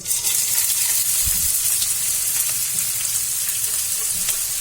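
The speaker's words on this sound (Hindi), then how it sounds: "अब इसमें हम प्याज डालेंगे। ये 2 प्याज है।" Two onions fry in a pan for dal makhani, making a continuous broadband sizzle with a wet, bubbling texture that stays even and moderately loud throughout.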